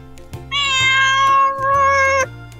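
A cat gives one long, loud, close meow lasting nearly two seconds, with a brief dip partway through, amid a few soft clicks and thumps of toys in the background.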